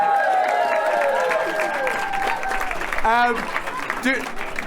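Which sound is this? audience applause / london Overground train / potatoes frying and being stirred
audience applause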